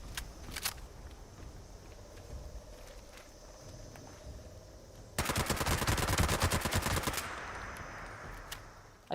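Two Shot FFR Handmade rifle in Fallout 76, a few scattered shots and then a loud rapid-fire burst of about two seconds, with quieter game ambience and footsteps around it.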